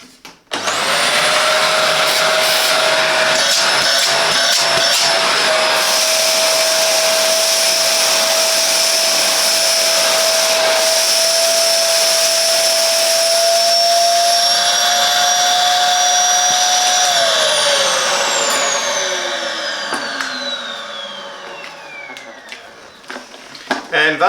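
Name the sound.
Philips 1000 Series bagless vacuum cleaner running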